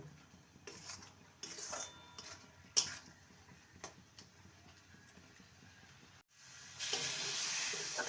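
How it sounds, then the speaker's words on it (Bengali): A spoon stirs a lau bhapa mixture of bottle gourd, salt, and mustard, poppy seed and coconut paste in a pan. It makes faint, scattered scrapes and clinks against the metal, and a soft sizzle swells near the end. "ভালো করে মিশিয়ে নেব আর নাড়তে থাকব"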